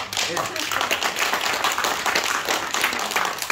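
A crowd claps together at an indoor lecture on grape and pepper farming, a dense, steady burst of overlapping claps lasting a few seconds.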